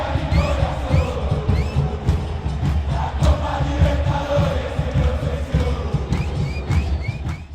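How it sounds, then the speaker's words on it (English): A football crowd at a Copa Libertadores match roars and chants in the stadium, a dense, echoing mass of voices with rising shouts and whistles throughout. "crowd cheers reverberating throughout the grounds"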